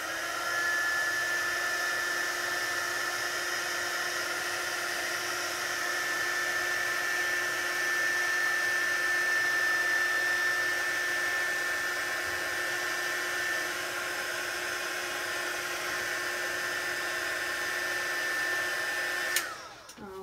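A heat tool warming embossing powder on acetate, blowing as a steady, even whir that holds for about twenty seconds before cutting off abruptly near the end, with no talking.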